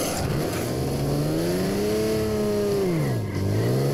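A car engine in the video game Dead Rising 2 drones loud and steady, its pitch rising and falling as the vehicle accelerates and eases off, close and continuous with no talk over it.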